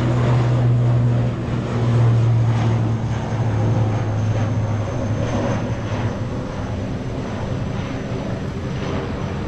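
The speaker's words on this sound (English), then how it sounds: "we've been watching the planes taking off today" Airplane taking off near a beach at Boracay, Malay, Aklan in the Philippines: a loud, steady engine roar with a low droning hum that holds throughout, slowly easing slightly toward the end, with no speech.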